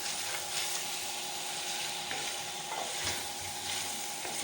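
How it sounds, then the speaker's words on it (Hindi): Potato slices being gently stirred and fried in a pan, with steady close sizzling of hot oil and light spoon scrapes running throughout. "बहुत ही एहतियात से हम इसका चम्मच चलाते रहेंगे इस तरह से, ताकि हल्की हल्की सी इसकी भुनाई हो जाए"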